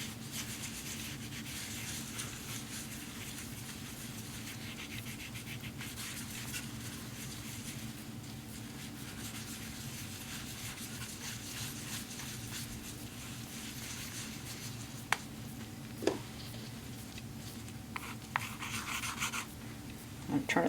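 Green rouge polish being rubbed into a slowly turning leather strop makes a faint, steady, soft rubbing hiss, with a few small clicks and taps toward the end.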